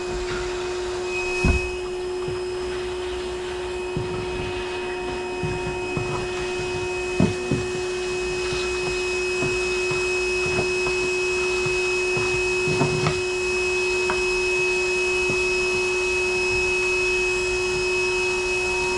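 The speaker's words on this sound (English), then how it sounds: "I'll go ahead and start the vacuum though." A vacuum cleaner drones steadily with a high whine while sucking up honeybees during a removal from a kids' playhouse, punctuated by occasional sharp taps and clicks as bees are sucked into the nozzle.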